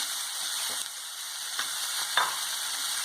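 Soya chilli sizzling steadily in a pan with the lid off, a constant frying hiss under a few soft scrapes of a spoon stirring, close and moderately loud with no speech.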